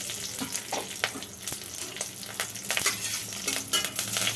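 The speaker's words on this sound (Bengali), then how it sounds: "তেল গরম হয়ে গেছে এবার একটু আস্ত জিরে তেলের ওপরে শুকনো লঙ্কা তেজপাতা সঙ্গে একটা কাঁচা লঙ্কা" Whole cumin seeds, dried red chillies, a bay leaf and a green chilli sizzling in hot oil in a pan, a steady crackling fry with occasional spatter pops and utensil clinks, close and continuous.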